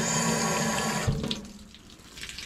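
Water runs from a tap into a newly installed fish cleaning sink. A steady, close gush shifts to a lighter splashing flow after about a second.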